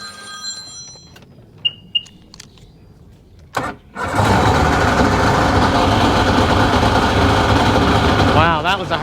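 A Sea-Doo personal watercraft engine cranks hard, fires and catches, then runs loud and steady at close range. Clicks and a brief voice come just before the start.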